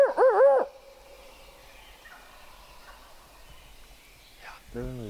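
A wild turkey gobbles loudly at the start, a brief warbling burst, then faint outdoor quiet and a second rough call near the end.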